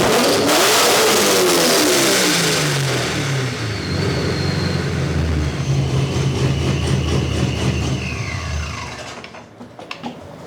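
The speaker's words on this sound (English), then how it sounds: "you guys are gonna hear the blow-off valve." A turbocharged Corvette making about 800 horsepower revs hard up close, a loud sustained engine roar with falling whines as the revs drop, followed by a hissing blow-off valve release before the sound cuts off.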